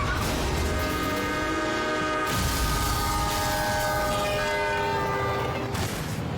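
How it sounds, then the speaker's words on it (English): A loud, sustained train horn blares over the heavy roar and rattle of a northbound train passing a level crossing, close by and continuous. "The train is just seconds away, so she runs for cover."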